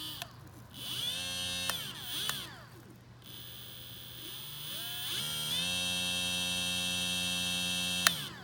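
A 1020 brushless motor driven by a CSJD15WF01-A controller whines as the throttle is turned, tones rising and falling through several spin-ups before holding a steady high-pitched hum, close and loud with no talk.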